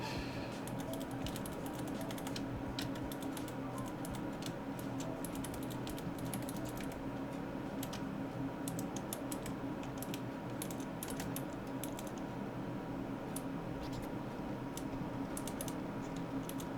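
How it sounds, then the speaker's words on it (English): Steady clicking of keys on a computer keyboard continues for a long stretch, rapid and uneven in rhythm, fairly quiet and close, with no voices. "trying to actually type"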